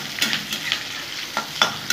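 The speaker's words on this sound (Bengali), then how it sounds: "পেঁয়াজ কুচিগুলো ছেড়ে দেবো। একটু লাল লাল করে ভেজে নেব।" Chopped onions frying in oil until reddish, a close steady sizzle broken by several quick scraping stirs of the spatula.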